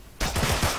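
Machine-gun fire breaks out in a Forgotten Hope 2 multiplayer battle on the Meuse River map, a sudden dense burst of rapid close shots that keeps rattling loudly after a short quiet lead-in.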